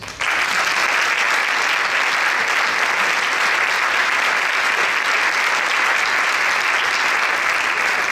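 An awards gala audience breaks into applause, a dense, sustained wash of clapping that starts abruptly and holds at an even, full level to the end.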